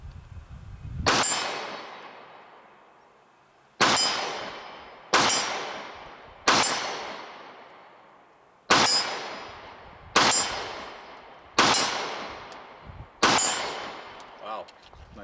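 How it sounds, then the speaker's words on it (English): A Smith & Wesson M&P Shield 9mm pistol fires at steel targets from 30 yards, eight sharp shots ringing out at irregular intervals, each with a bright metallic clang and a long fading ring. "Wow, nice shooting from 30 yards away."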